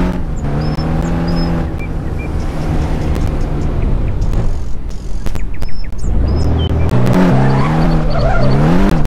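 Car driving in the Roblox video game, with a steady engine drone and shifting pitch, plus a brief squeal-like burst midway and game music underneath.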